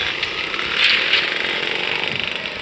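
A motorcycle engine on a Sunday group ride in Aceh gives a sudden unintended rev, a close, loud mid-pitched roar that swells briefly and then settles back into a steady running drone.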